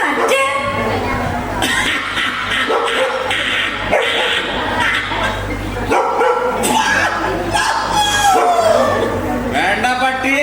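A dog barks repeatedly in loud, sharp bursts through the scene, close by, while people talk over it and a rooster crows briefly in the background.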